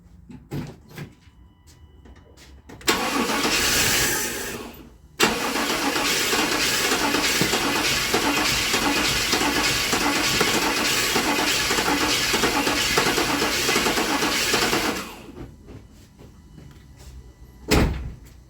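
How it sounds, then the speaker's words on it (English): A pickup truck engine cranks at length, a loud continuous churning starter run of about twelve seconds, preceded by a shorter crank burst and followed by quieter clanks. "now it's trying to start"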